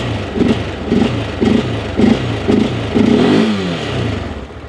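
A Honda Rubicon 700 ATV engine free revs in neutral: six quick throttle blips rise and fall in a steady rhythm, the last one held a little longer before the idle settles, loud and close with no talk.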